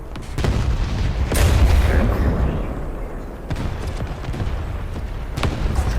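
Artillery fire in a tank video game booms and rumbles through a dense, noisy mix, with heavy low thuds and sharp impacts spread across the stretch while a voice talks over it.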